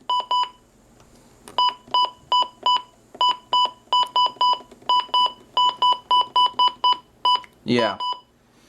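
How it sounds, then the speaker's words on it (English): Rapid clusters of short, bright electronic button beeps from a Midland WR-100 weather radio repeat in quick bursts, ending with a brief sweeping chirp. "The button beeps"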